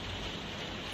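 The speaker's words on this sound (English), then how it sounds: "Sorry for the rain." Steady, dense patter of rain drumming on a plastic roof, a continuous close hiss with no gaps and no voices.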